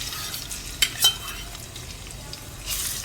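Ginger-garlic paste sautéing in hot oil for street-style Hakka noodles, a steady low sizzle with two sharp metallic clinks of a spoon early on and a brief swell of hissing near the end; no speech.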